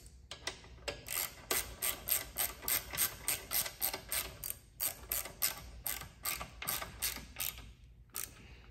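Ratchet wrench tightening loose motor mounts on a 1972 Harley-Davidson Shovelhead chopper: steady, rapid, close clicking strokes in bursts, with short pauses near the middle and end and no talking.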